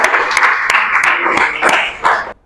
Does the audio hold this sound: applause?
yes